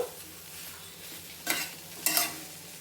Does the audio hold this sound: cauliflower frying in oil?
yes